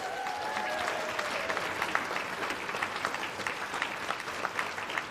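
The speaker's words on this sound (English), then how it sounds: "Can I get a round of applause for the Eden Project, please?" An evening awards-ceremony audience applauds steadily for the full stretch, a dense even wash of many hands clapping at moderate volume with no voices over it.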